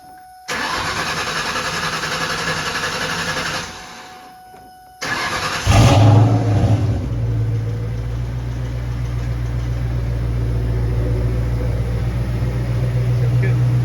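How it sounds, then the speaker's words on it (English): A Ford Mustang Mach 1 engine cranks on the starter for a few seconds, pauses, then fires with a loud roar and settles into a steady rumbling idle. "Okay, gas pedal all the way down."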